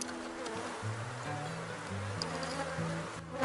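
Honeybee swarm buzzing at the hive, a low droning hum with wavering pitch from many bees close by, steady and soft throughout with faint background noise.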